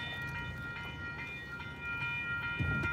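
Railroad crossing bell at a level crossing dinging steadily just after a train passed on a Friday morning by the Gettysburg battlefield, a regular metallic ringing heard outdoors over low rumble from the track area.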